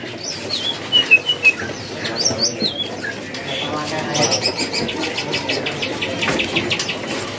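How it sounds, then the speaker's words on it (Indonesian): Green leafbird (cucak hijau) in a cage at a bird kiosk, singing a busy run of chirps and whistled notes with some wing flutter, fairly close among other birds and market bustle. "Untuk yang paling atas nih rajin bunyinya untuk burung cah hijau pH-nya."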